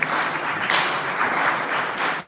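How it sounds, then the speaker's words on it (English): A convention audience breaks into a round of applause during an evening election session, dense crowd clapping sustained for about two seconds before cutting off. "A round of applause once again,"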